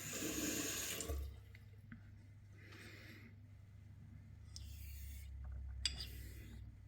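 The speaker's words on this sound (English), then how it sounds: "I'm going to add a little bit of water." Water splashes briefly onto a honing stone during straight razor sharpening, a bright wet burst at the start that gives way to a low steady hum and faint scraping.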